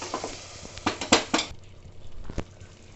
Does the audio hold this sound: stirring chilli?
yes